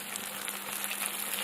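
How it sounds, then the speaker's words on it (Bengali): Onion, tomato and ginger-garlic paste fry in oil in a pan, giving a steady, fairly quiet sizzle that stays even throughout with no voices. "সব কিছু এবার ভালো করে ভেজে নিতে হবে।"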